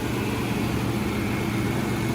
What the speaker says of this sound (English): Not really noticing any leaks other than this exhaust leak here on this